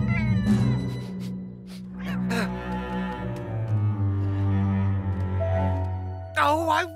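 A cartoon cat meows in a children's animated Peter Rabbit show, a drawn-out wavering yowl that rises and bends over low background music, followed near the end by a sharp, louder meow.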